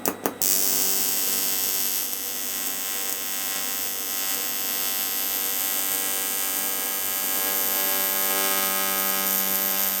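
TIG welding on 5 mm aluminium at an outside corner joint, with the pedal held around 130–160 amps: a steady, continuous electrical hum and buzz runs close and loud throughout, after a couple of sharp pops at the start.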